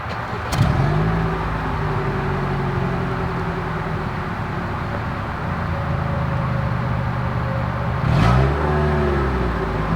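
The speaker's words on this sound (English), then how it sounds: "Here is that exhaust clip." A 2024 Toyota RAV4 with dual exhaust idling steadily, then revved twice with sharp rises and falls in pitch. The first rev comes early and the second near the end, both loud and close, with no voices.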